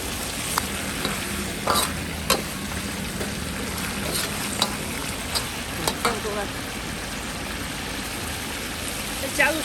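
Pork trotters stir-fried in a wok with soy sauce and cooking wine: a steady sizzle with repeated scrapes and clacks of the spatula against the pan, while a voice talks faintly underneath.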